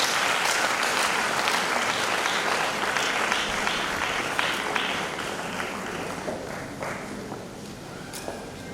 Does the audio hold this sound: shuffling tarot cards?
no